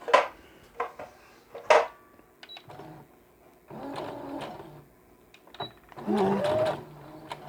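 A sewing machine stitches doll shoes in short separate bursts of close mechanical whirring, with small clicks and handling noises in the pauses between runs.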